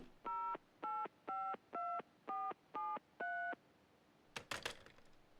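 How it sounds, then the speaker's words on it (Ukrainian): A phone dialing the police in the horror video game Mr. Meat: seven crisp keypad tones in a quick even sequence, followed by a short clattering burst, with no talking. "ви зателефонували в поліцію"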